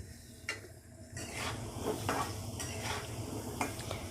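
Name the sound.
stirring potatoes with Kashmiri red chilli powder in a pan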